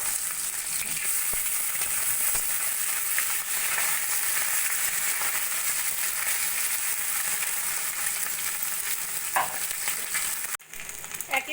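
Mourala fish frying in oil in a wok, a steady, dense sizzle and crackle that holds close and even throughout, with a brief clatter and dip near the end.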